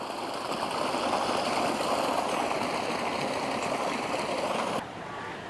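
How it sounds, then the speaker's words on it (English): Steady broadband rush of water pouring into a newly built wildlife-sanctuary pond, loud and continuous like a small stream, cutting off sharply near the end. "see that little river starting to fill up"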